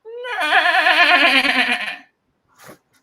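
A startled horse lets out a loud, wavering whinny lasting about two seconds, its tone shaking as it fades, followed by a brief faint snort.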